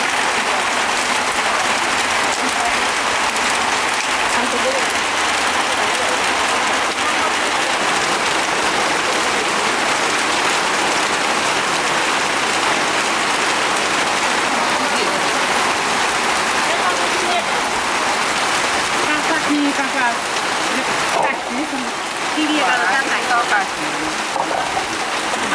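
Heavy rain pours down on a rainy day where women are cooking Catla fish outdoors, a dense, loud, unbroken hiss drumming on surfaces for the whole stretch, with faint voices underneath.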